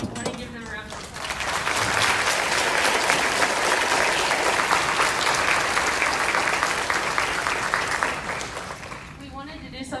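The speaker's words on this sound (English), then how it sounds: "I want to give them a round of applause." Steady, dense applause from a choir concert audience rises quickly and holds loud and even for several seconds before fading, with a voice briefly audible at the edges.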